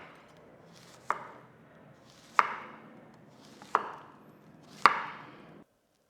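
A knife slices zucchini on a cutting board, with four crisp, evenly spaced chops against a quiet, close background.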